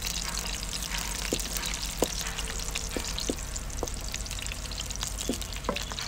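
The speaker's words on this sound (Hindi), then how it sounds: "अब इसमें 3 सब्ज़ मिर्च डालेंगे साबुत और थोड़ा सा भून लेंगे।" Whole green chillies and golden-browned onions fry in oil for an egg masala gravy, giving a steady close sizzle broken by scattered sharp pops and crackles.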